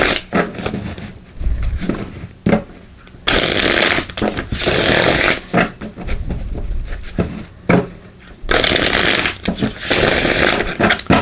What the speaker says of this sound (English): So let's give these a shuffle.